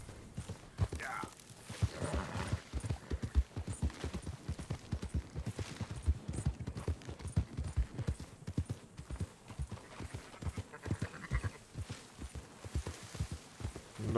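Steady clip-clop of horse hooves from a ridden horse in Red Dead Redemption 2, a brisk rhythmic gait close by that runs throughout, with a few voices talking over it.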